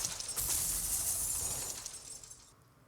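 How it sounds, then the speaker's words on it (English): Boxes shot in a first-person game prototype crash and shatter in a bright, glassy burst that rings on for about two seconds before fading out, with no talk over it. "crashing sounds that have like a little bit of dynamism to them"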